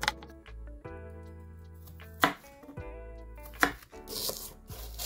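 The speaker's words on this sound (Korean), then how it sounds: "무, 양파, 고추를 한입 크기로 잘라주면 준비는 끝나요." A knife chops radish, onion and chili peppers on a board for soy-sauce pickles, a few distinct sharp knocks spaced apart over a steady tonal background hum.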